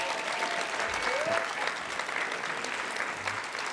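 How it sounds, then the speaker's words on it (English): At an annual city awards ceremony, an audience gives a steady round of applause, a continuous even wash of clapping with scattered faint voices and a brief whistle-like tone beneath. "Another round of applause, please."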